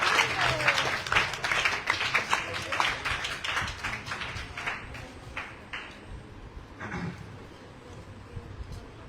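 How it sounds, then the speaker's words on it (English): Audience clapping at a Bhagavata katha, a burst of scattered applause that starts strong, thins out and fades over several seconds, with faint voices toward the end. "Applause, loudly applause."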